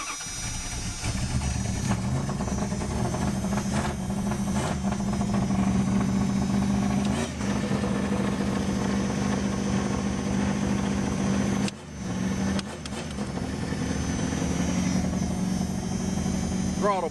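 A Dakota truck engine runs steadily on wood gas fed from a gasifier, with a continuous close mechanical drone and a brief dip partway through, under occasional talk.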